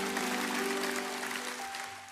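A church congregation claps during a worship service in Surabaya, a sustained crowd applause with a steady hum of tones beneath, gradually tapering off toward the end.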